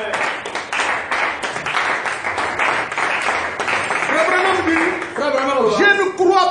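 A church congregation at a Sunday sermon bursts into sustained loud applause and clapping, with cheering voices rising over it toward the end.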